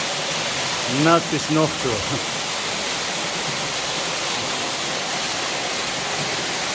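A waterfall roars steadily as a dense, even wash of water noise throughout, with a person speaking briefly near the start.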